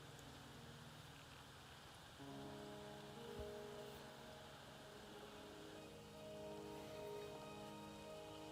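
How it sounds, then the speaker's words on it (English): Steady rain falls in the video game Wuthering Waves, a soft continuous patter on surfaces under a low layer of ambient game music, with no talking. "Are you trapped here by the rain?"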